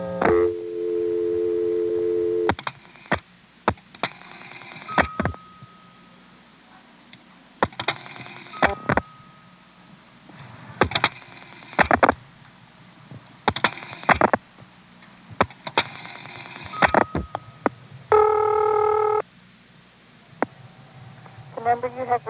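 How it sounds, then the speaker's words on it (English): Step-by-step telephone exchange call in Prince William County, Virginia, dialed through a dropped register sender toward a vacant level: bursts of clicking dial pulses and tones alternate with steady tone segments, clear and close on the line. "This was dialed by dropping the register sender and then dialing 7 for Manassas, 7 for 367 via Manassas"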